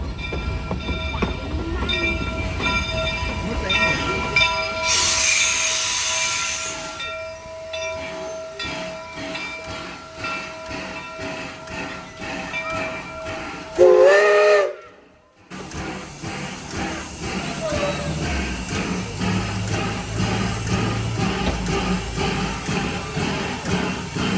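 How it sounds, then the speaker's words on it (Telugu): An old-fashioned steam train on the Mount Rainier Scenic Railroad in Washington rumbles and clanks steadily, with a loud burst of steam hissing partway through and a brief whistle-like tone before the rolling noise resumes. "ఫైనల్లీ మేము ఎక్కబోయే ట్రైన్ కూడా వచ్చేసిందండి"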